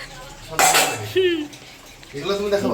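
Dishes and cutlery being washed after a birthday meal at home, with clinks and clatters in bursts over running water, and a voice speaking in between.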